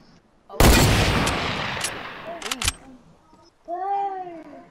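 Fortnite gunfire erupts as a loud burst of shots, followed by a few sharper separate cracks, with a brief whining cry-like sound from the game near the end.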